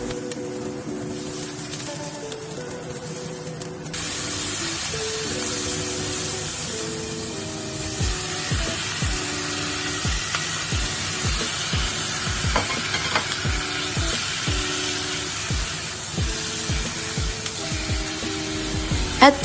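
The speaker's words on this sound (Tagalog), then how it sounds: "Ngayon naman sa isang mainit na palayok, maglagay tayo ng mantika at igisa natin ng ating sibuyas." Onions sauté in hot oil in a pot, giving a steady sizzling hiss that runs through the whole stretch, with stirring scrapes and soft music playing underneath.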